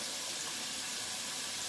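Tap water pours steadily into a sink, a constant hissing splash heard alone at low level for under two seconds.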